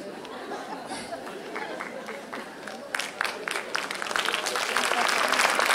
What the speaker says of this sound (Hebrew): זה שאתם צוחקים ומוחאים כפיים